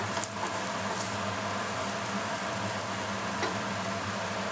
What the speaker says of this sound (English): Fry it a little bit till all the vegetables, the onion, garlic and the ginger, they're soft